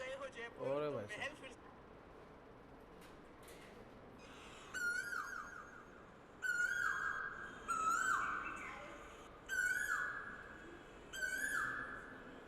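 A person imitates an Asian koel's call with repeated rising whistled hoots, several in a row with short pauses, after some earlier bird-like sounds.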